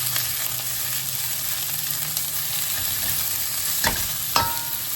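Peppers and onion stir-fry in a hot pan with a steady, close sizzle. Two sharp scrapes of a utensil against the pan cut through near the end. No one speaks.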